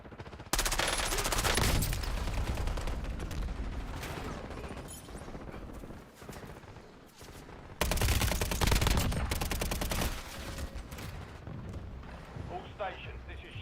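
Heavy gunfire in a war video game, dense continuous bursts of automatic fire and booming blasts that swell, dip briefly, then surge again, with radio-style voices calling out over the battle.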